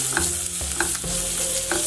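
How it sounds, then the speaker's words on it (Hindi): Raisins fry in a hot pan with a constant close sizzle while a spoon stirs them in quick, repeated scraping strokes, over faint background music. "अब इनको हिलाएंगे, थोड़ा सा पकाएंगे इसको किशमिश को।"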